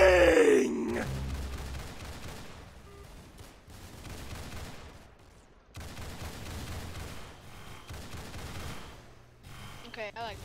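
Rapid gunfire in the Roblox shooter Arsenal, dense bursts of shots running almost continuously and fairly loud, with a short break near the middle and a voice heard under the shooting.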